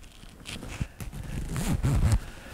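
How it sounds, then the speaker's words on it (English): Zipper on a Dainese D-air smart motorcycle safety jacket drawn up in a few quick rasping pulls close to the microphone, with some fabric rustle in between. "And then I'm going to zip it up,"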